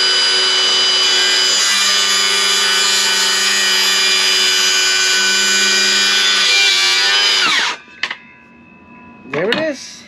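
A Milwaukee M18 cordless 6.5-inch circular saw cuts a 45-degree bevel through wood, whining loud and steady for about seven seconds before spinning down, followed by short revving bursts.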